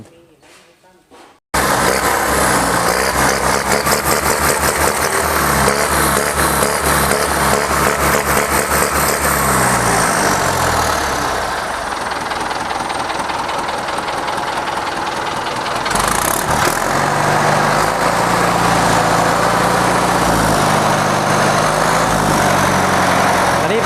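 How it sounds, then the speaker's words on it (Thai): A turbocharged Ford 8210 farm tractor engine starts and runs steadily, a loud close rumbling idle with a rhythmic knock that holds for the full length and shifts slightly partway through. "เครื่อง ก็แรงดีแน่นอนนะครับดังแบบนี้"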